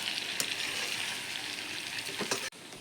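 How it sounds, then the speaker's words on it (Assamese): Taro stirred into half-cooked pork in a pan sizzles in a steady, moderate hiss, with a few soft scraping stirs and a brief clatter that cuts off abruptly near the end. "এতিয়া মই কচুখিনি দিয়াৰ পিছত ধুনীয়াকৈ লৰাই ল'ম।"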